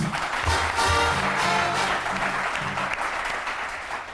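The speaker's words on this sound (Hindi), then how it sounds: "बहुत सारी तालियां जी मेरे इन फनकारों के लिए" Studio audience applauding performers at the close of a Pakistani comedy show, steady dense clapping filling the whole stretch at even loudness with no voices over it.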